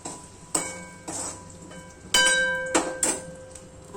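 Capsicum being stirred in a pan of hot oil, with soft scraping strokes and clinks at an irregular rhythm over a faint steady sizzle, close and moderately quiet.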